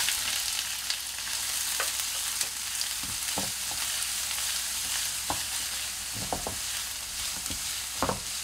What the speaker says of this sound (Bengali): কড়াই আমি দুপলা তেল দিয়েছি, সাদা তেল। এবার আমি পেঁয়াজ কুচিটা দিয়ে দেবো।